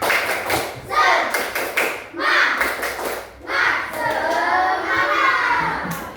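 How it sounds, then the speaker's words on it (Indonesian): A classroom of children performs a rhythmic spirit clap before a fractions lesson, patterned bursts of hand claps and slaps, loud and near, with children's voices chanting along. "sebelum memulai pembelajaran kita tepuk semangat dulu biar semangat ya."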